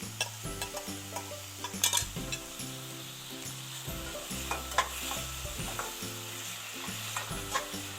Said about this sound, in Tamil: இப்போ வெங்காயம் தக்காளி கொஞ்சம் வதங்கட்டும்.